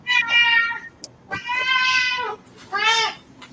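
A kitten meows loudly and close by in three drawn-out, plaintive cries, the middle one longest, with no talk over them.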